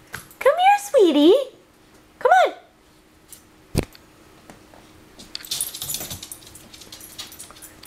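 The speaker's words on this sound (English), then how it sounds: "Noisy, fluffy puppy." A fluffy puppy whimpers close by in a few rising and falling high whines, then goes quiet. A sharp click and some soft rustling follow.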